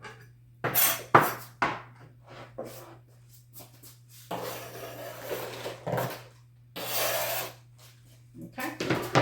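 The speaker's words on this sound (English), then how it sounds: "we're going to scrape off the cutting board" Scraping food off a cutting board while cooking stir fry: repeated rough rasping and clattering strokes of a utensil against the board, close by, over a low steady hum.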